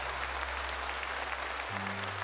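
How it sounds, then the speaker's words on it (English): Steady applause from an online stream audience, a continuous wash of claps at even level with a low hum underneath throughout. "let's get a huge round of applause for One Sleep 24"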